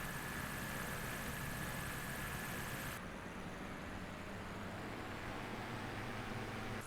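Twin engines of the DoubleEnder aircraft in a flight game drone steadily at near-constant volume, a broad rumbling roar with a brighter hiss that drops away partway through as the engine note settles lower.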